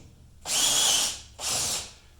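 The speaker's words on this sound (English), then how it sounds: "Okay, I got the drill. That'll speed things up a bit" A power drill spins out screws from the sill plate of a 1965 Ford Thunderbird convertible, two close whining bursts of about half a second each, loud and alone with no talking.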